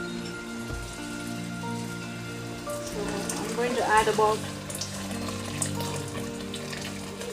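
Boiling water poured into a pot of beef biryani rice and gravy, a steady splashing stream under a soft hum, while someone talks over it.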